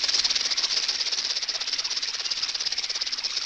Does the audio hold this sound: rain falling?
no